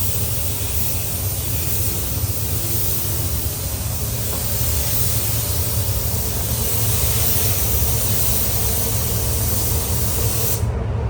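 Pink liquid wrap paint hisses steadily from a spray gun onto a Ford Focus ST, a loud continuous close-up spray with no talk, cutting off right at the end.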